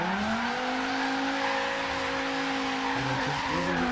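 A Dodge Viper drifts in Forza Horizon 3, its tires holding a steady, loud, high-pitched squeal for several seconds as the car slides, with the engine note wavering near the end.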